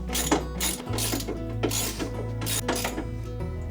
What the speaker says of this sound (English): I'm going to finish it off with my ratchet.